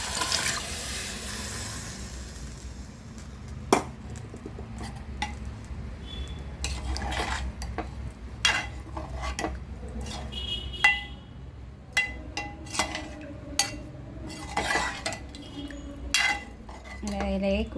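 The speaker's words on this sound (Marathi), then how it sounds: "आता यामध्ये आपलं जे शिजवलेली कलेजी आहे ते यामध्ये टाकायचे" Cooked liver tipped into fried masala in a pan and stirred, giving repeated clinks and scrapes of a spoon against metal over a low, soft simmer, with occasional sharper knocks.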